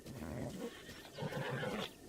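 A horse neighs twice in The Legend of Zelda: Breath of the Wild, each a loud, close whinny lasting under a second with a short gap between them.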